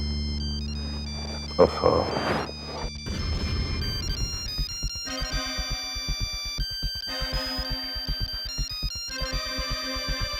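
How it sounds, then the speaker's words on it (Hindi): A mobile phone ringtone starts up and repeats its melodic tone pattern over several seconds, following a brief clatter and a short exclamation from a person, heard indoors in a Hindi drama scene. "किसका फोन है?"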